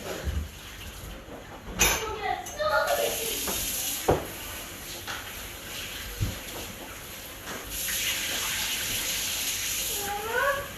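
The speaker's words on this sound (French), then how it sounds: "Donc vous videz l'eau chaude et on met de l'eau froide." In a kitchen, hot water is poured off and cold water is run in while making soupe au pistou. Splashing pours and a hissing tap stream come in bursts, close and fairly quiet.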